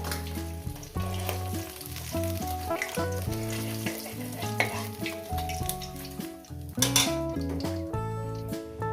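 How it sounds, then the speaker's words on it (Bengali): Pieces of catla fish fry in a pan with a steady sizzle under loud background music, with occasional clinks of a utensil against the pan. "বাদ বাকি মাছগুলো আমি দিয়ে দিয়েছি এগুলো ভেজে নেবো"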